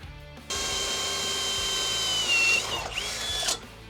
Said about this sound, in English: we're gonna grab an 8mm drill bit, drill a hole in the bar